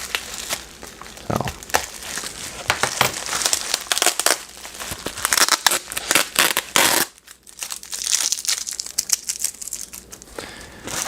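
Plastic bags crinkle and rustle while the body of a new Alpha Model AM02-0032 Ferrari F8 model car is unboxed, giving close, continuous crackly handling noise with a brief lull midway.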